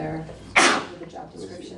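A single loud sneeze bursts out suddenly, cutting across an ongoing conversation in a live stream chat, with talk continuing around it.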